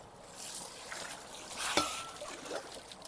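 Water splashes and trickles onto a charpai cot in a rural home, a short wet pour with broadband spatter and a sharper splash midway, fairly close.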